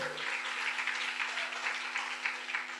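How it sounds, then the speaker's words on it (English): Audience applause for two speakers at an Amway presentation event, a steady wash of many hands clapping throughout without pause, moderately loud and fairly close, with no talking over it. "Another round of applause to both the speakers."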